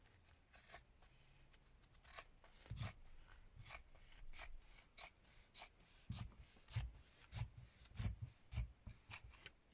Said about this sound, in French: On coupe qu'un seul tissu.